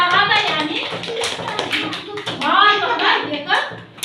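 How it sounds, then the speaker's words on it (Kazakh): A primary school class claps hands, with scattered claps and taps heard under voices that keep talking throughout. "Шапалақ ұрамыз."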